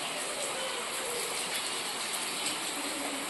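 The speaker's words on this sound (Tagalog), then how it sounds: "mahina lang yung ulan" Light rain falls steadily at home, a continuous soft hiss and patter with no breaks, fairly quiet and even throughout.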